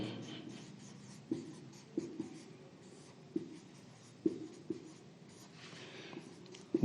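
Chalk or a marker writes on a board during a chemistry lesson about soap and detergent, giving a steady scratching drone with sharp taps as strokes begin, close and moderately quiet.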